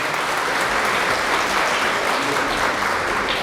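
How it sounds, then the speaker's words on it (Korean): A hall audience claps steadily throughout at a Hanshin University 86th anniversary ceremony, dense and even applause without a break. "박수 쳐주세요"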